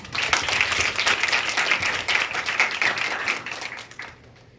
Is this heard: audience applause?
yes